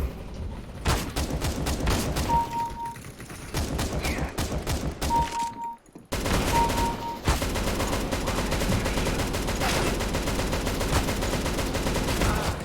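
Rapid automatic gunfire in the video game CS:GO, long dense bursts of loud shots with brief pauses between strings, close and continuous through most of the stretch.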